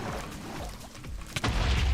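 Creeper explosion in the video game Minecraft, a deep booming blast swelling near the end after a few dull thuds, loud and close.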